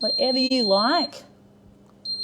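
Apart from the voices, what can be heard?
electronic beeping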